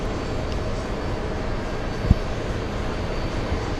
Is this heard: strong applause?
no